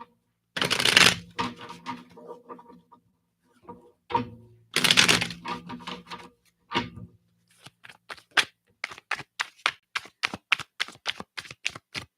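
Sun and Moon Tarot cards being shuffled during a live reading, heard as two loud riffling bursts, then scattered handling and a quick run of crisp, evenly spaced card snaps close to the listener.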